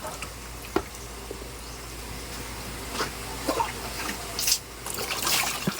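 Running water over a sink while dishes are washed in a small island home kitchen, a steady trickle broken by clinks and splashes that grow busier toward the end.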